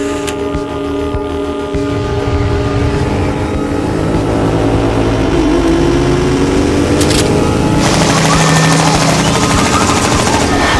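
Gunfire rattles through a loud video game cutscene from Revolution 60, set in a motorcycle chase down a hallway, with rapid bursts layered over engine roar and droning machinery that swells and stays dense throughout.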